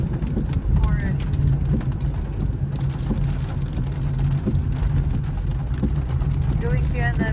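Steady rain patters down over a weekend camping trip with kids, a continuous dense wash with occasional heavier drops, while people talk nearby.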